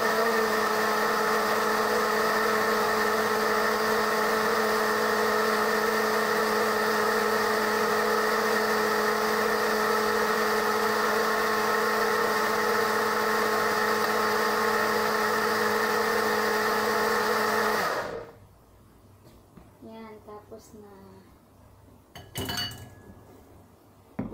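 A blender whirs loudly and steadily for about eighteen seconds while making beetroot juice, then cuts off, leaving quiet clinks and clatter of dishes.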